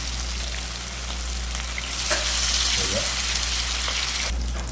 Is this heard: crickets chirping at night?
no